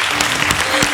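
A studio audience applauds steadily and densely after a singing performance on a junior singing talent show, with continuous clapping at close range.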